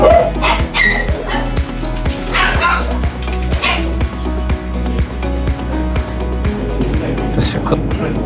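Puppies yip, bark and whimper in quick repeated bursts close by, with people talking over a rhythmic background music track.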